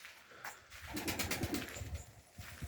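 Racing pigeons landing and cooing, soft throaty coos close by with a brief flutter of wings, fairly quiet over a low background hum and no talking.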